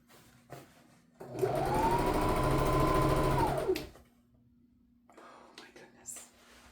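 A sewing machine stitches a robe cuff in one steady burst of about two and a half seconds, whirring loud and close, with a quiet voice before and after.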